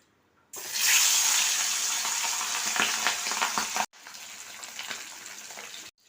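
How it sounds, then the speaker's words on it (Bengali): Hilsa fish frying in hot mustard oil, a sudden loud sizzle erupting as the fish goes in, then a steady close crackling hiss that breaks off briefly and resumes slightly softer. "তেল গরম হয়ে গেছে, এবার ইলিশ মাছটাকে ভেজে নেব।"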